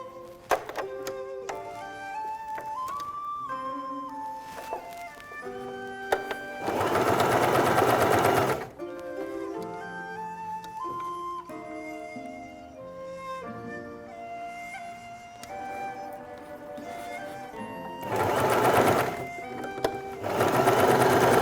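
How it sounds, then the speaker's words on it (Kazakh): A sewing machine stitches together pieces of a Chechen-style patchwork quilt, running in several long, loud bursts of rapid, whirring stitching close by, with quieter pauses and background music between runs. "Қазір енді тігіп шығамыз"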